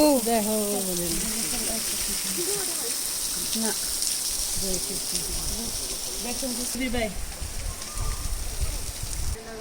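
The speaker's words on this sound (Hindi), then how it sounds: "हमारे ऊपर भी बरसात हो गई।" Rain falls near Anjani Mahadev in Solang Valley, Manali, a steady patter and hiss under someone talking or chanting close by.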